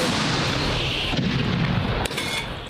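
A heavy, booming artillery gun blast on the front near Avdiivka rolls out nearby, a deep rumbling report that lingers and fades over a couple of seconds.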